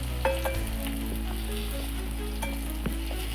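Mushroom pakoras sizzle in hot oil with a steady, close frying hiss, broken by a few sharp utensil clicks and stirring knocks, with no voices.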